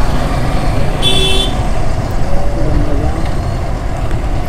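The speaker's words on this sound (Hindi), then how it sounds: "यहाँ आने के बाद ट्रैफिक, ऐसा कैसे भाई?" Heavy, dense traffic jam near the end of the Mahatma Gandhi Setu bridge over the Ganga at Gaighat, Patna, with one short two-tone car horn blast standing out over a loud, steady engine rumble.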